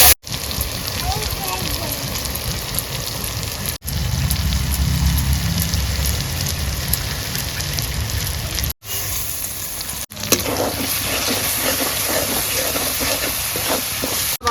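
Tomatoes tipped into a hot pan of oil for a Bengali crab curry, a loud hissing sizzle that drops briefly and then picks back up, with occasional clatter and no voices.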